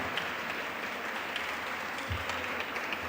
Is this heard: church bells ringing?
no